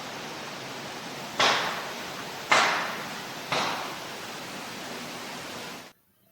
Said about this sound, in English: This is what people expect to hear when they hear knocks.